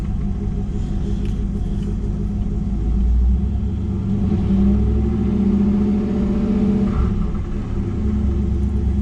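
A Chevrolet Camaro Z28 idles after its first cold start following months of storage, a loud, steady low rumble with a swelling rev in the middle, heard close and without voices.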